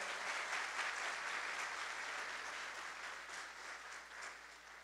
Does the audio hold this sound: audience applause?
yes